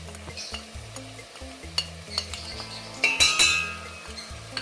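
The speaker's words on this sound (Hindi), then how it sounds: "और इसको हमने थोड़ा सा भून लेना है मसाले को।" Turmeric, red chili and salt masala roasting in a pan, a soft sizzle under repeated scraping stirs and a couple of metallic clinks from a spoon against the pan, close and fairly quiet.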